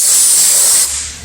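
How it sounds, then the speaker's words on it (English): Compressed air blasting the screws clean on a Contouramat machine, a loud, close, steady hiss that drops off sharply near the end, leaving a low rumble. "You're gonna want to blow the screws clean."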